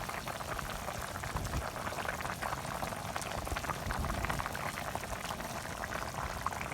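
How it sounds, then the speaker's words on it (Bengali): Water bubbles at a rolling boil in a cooking pot as pieces of a large carp are added, a continuous close hiss and burble with no talk. "জলগুলো যে ফুটে গেছে, এখন মাছগুলো আমি দিয়ে দিব।"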